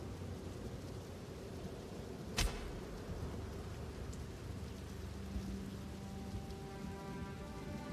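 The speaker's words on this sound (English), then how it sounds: "the cadence of the rain sounds in the background specifically is like the rain hitting the windowsill very nicely" Rain hitting a windowsill as background ambience: a faint, steady patter of drops with one brief sharp crack partway through, and soft tonal hints near the end.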